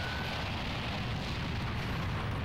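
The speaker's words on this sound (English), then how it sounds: "Very pretty explosion, though." A sustained, roaring explosion from the video game Dragon Ball Z: Infinite World fills the whole stretch with loud, dense rumbling noise that holds steady from start to end, with no talk over it.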